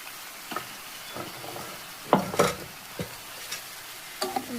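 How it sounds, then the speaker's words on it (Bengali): Pumpkin pieces stirred in a cooking pan, a few distinct scraping and clattering strokes spaced over a quiet background, with the loudest pair of stirs near the middle, no talking. "সুন্দর করে নেড়ে চেড়ে নিলাম, তারপর আবার ঢেকে দিলাম।"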